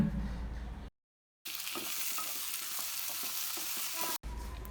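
Chopped medium tomatoes tip into a hot pan of frying biryani base and sizzle steadily with scraping stirs, a brief silent gap before the loud frying continues.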